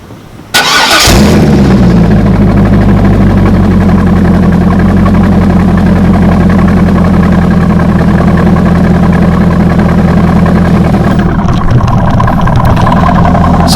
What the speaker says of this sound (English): how about a cold start up so you can hear this current exhaust